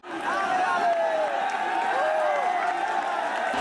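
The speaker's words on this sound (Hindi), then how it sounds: "बहुत भीड़ है" A large protest crowd at Jantar Mantar makes a loud, continuous roar of voices, with shouting and chanting layered over dense babble close by.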